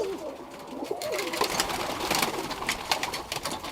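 Birmingham Roller pigeons coo softly in a loft, low rolling calls repeating under a busy layer of rustling and clatter.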